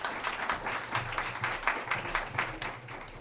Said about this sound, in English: Let's hear a round of applause for her.